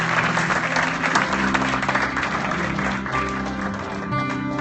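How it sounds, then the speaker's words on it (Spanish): A church congregation applauds, with sustained loud clapping and crowd noise that tapers off slightly toward the end. "Da un aplauso fuerte al Señor. Let's give the Lord a hand."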